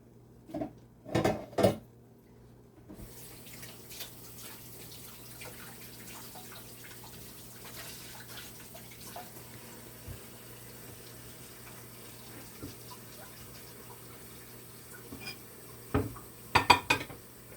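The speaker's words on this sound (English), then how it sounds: "I'm just in the process of transferring the cake from the BUNDT pan" A chocolate Kahlua cake is worked out of a Bundt pan in a kitchen with dull clanks and metallic knocks of the pan and utensils, the loudest near the start and end, over a low steady hum with no talking.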